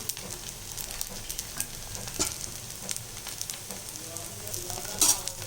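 Wheat flour dosa cooking in oil on a hot pan, giving a steady close sizzle with light crackles and a few sharper pops, no voices.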